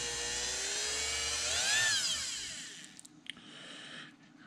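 A Dremel rotary tool spins at high speed while tuning an ABU 7000 baitcast reel, a thin whining buzz that rises in pitch, then cuts off, followed by a few small clicks and handling taps.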